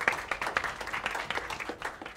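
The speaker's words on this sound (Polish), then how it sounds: "Wielkie brawa, wielkie brawa." Scattered applause at a Fame MMA fight press conference, individual claps audible in a loose uneven rhythm, moderately faint and thin, as from a small audience in the room.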